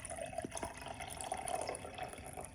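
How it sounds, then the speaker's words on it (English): Water poured from a container into a laboratory beaker during a soda-can chemistry experiment, a quiet, steady trickle and splash with a few small drips, close by and faint. "add a little bit of water to a beaker"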